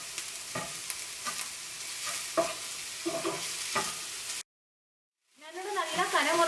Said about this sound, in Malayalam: ഈ ചൂടായ ബട്ടറിലേക്ക് ഏറ്റവും ആദ്യം മഷ്റൂം ചേർക്കാം